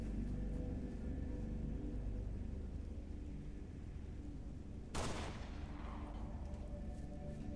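Human pistol fire in Halo: Reach on Legendary difficulty, a single sharp shot cracking out midway over a constant low rumble of ambient game noise, with nothing else standing out.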